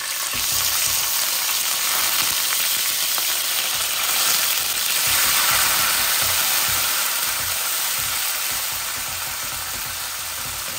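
Tilapia fish pieces frying in hot oil give a steady, dense sizzle that holds close and loud throughout, with no talking over it.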